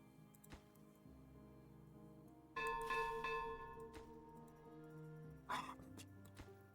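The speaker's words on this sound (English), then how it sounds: "Can I silence the bell?" A bell rings in the video game Timberborn, with two clear bright strikes with ringing tones about three seconds apart over a quiet background.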